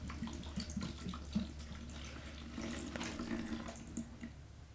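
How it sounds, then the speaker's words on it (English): Water is poured into a cauldron during a ritual game, a continuous close trickling and splashing stream with a constant low hum beneath it. "I'm pouring in the water."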